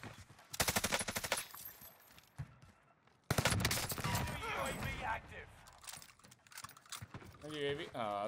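Automatic rifle fire from Call of Duty Warzone comes in two loud, rapid bursts of cracks separated by a brief lull, with people talking over the shooting.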